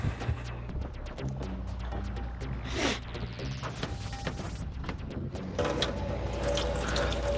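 Tap water runs steadily from a faucet at a bookbinding workbench, a continuous faint splashing stream with small clicks and shifts in flow, no talking.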